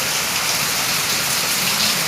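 Steady, dense rain falls continuously, a close hiss of drops on surfaces with no break and no voices.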